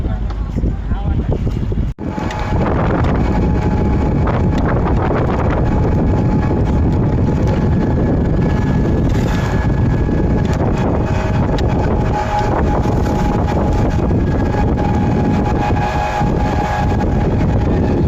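Strong wind blows steadily across the microphone on a river boat ride in the rainy season, a loud continuous rushing roar with a brief dropout near the start.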